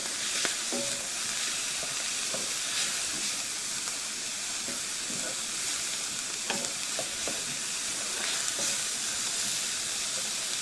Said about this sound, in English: I'm just keeping everything moving so nothing starts to burn on the bottom of the pan.